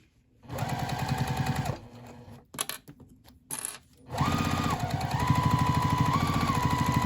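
A sewing machine runs close by, stitching the side seams of a bag in two long steady runs. A brief gap with small clicks and handling noises separates them, and the second run shifts pitch slightly as the speed changes. No one speaks.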